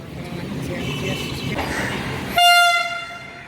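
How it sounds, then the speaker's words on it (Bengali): A Vande Bharat Express bound for Siliguri rumbles into a station, and then a loud, sustained horn blast sounds nearby and slowly fades. Voices can be heard on the platform. "এই যে বন্দে ভারত এক্সপ্রেস ঢুকছে এটা শিলিগুড়ি যাচ্ছে"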